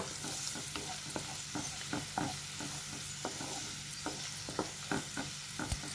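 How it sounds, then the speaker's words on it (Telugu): Fried onion paste with turmeric being mixed in a hot pan, a constant sizzle broken by regular sharp scrapes and taps of a spoon, close and fairly quiet. "కాస్త పసుపు వేసుకొని కలుపుకోవాలి ఇలా"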